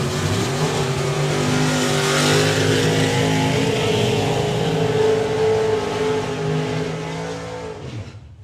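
Ford Cortina Estate and Ford Anglia doing side-by-side burnouts at a summer drag racing meet, two engines held at a loud sustained roar with tire noise for about eight seconds before fading at the end.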